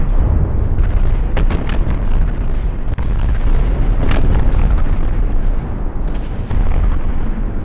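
Constant artillery barrage in a 1915-era strategy war game, a loud, dense, continuous rumble of overlapping explosions and booms with occasional sharper cracks and no pause.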